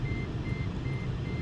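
Truck reversing alarm beeping in a steady repeating pattern over a low idling engine rumble, moderately close and continuous.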